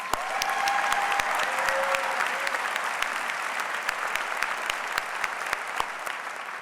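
Sustained audience applause fills a university graduate commencement ceremony at the University of Michigan, a dense steady wash of many hands clapping at even loudness for several seconds, with a faint voice briefly audible early on.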